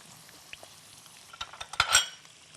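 Shrimp dropped into hot oil for gambas: soft quiet simmering at first, then a few clinks of utensils and a sharp rising burst of sizzle as the shrimp hit the pan, fading slightly at the end.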